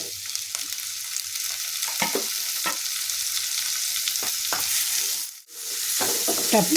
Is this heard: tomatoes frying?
yes